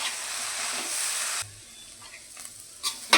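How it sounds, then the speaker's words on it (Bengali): Rice and lentils fry with turmeric in a pan for Bengali khichuri bhog, a steady broadband sizzle for over a second, then quieter scraping stirs with a couple of sharper clinks near the end. "এবার ভালো করে ভেজে নেব চাল ডালটা।"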